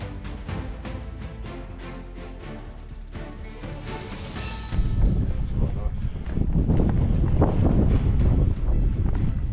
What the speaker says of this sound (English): it was quite windy up there.